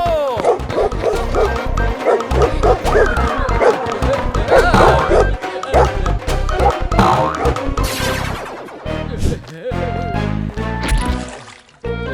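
A cartoon dog barks in sharp yips and woofs amid busy animated background music and sound effects, with a frantic voice crying out for help between the barks.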